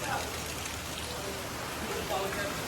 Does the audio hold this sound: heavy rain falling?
yes